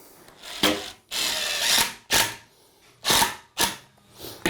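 A drill drives a screw at an angle into plywood in repeated close, loud bursts, roughly five short whirring pulses separated by brief pauses, with no talk.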